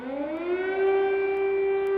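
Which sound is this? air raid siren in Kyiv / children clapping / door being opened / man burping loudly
air raid siren in Kyiv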